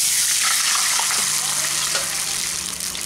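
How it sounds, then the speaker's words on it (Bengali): Water poured into hot oil holding whole cumin seeds, a loud, steady hiss and sizzle that fades slightly toward the end, with faint background clatter and a possible voice. "এখন এর মধ্যে আমি জল দিয়ে দিচ্ছি"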